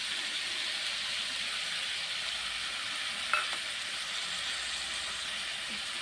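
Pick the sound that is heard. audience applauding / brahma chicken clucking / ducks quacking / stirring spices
stirring spices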